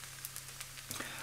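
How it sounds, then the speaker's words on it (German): A vegan pancake fries in a pan after being flipped, giving a faint, steady sizzle with small crackling pops and no talking. "Einmal wenden und noch mal ganz kurz von der anderen Seite anbraten"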